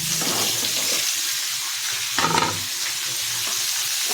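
Ridge gourd and tamarind fry in a pan, a dense, loud, continuous sizzle close up, with a brief scrape of stirring midway and no voices.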